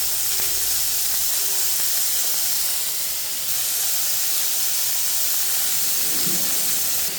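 Chopped chicken goes into a hot pan and sizzles with a loud, continuous steam-like hiss that stays steady throughout, with faint kitchen clatter underneath.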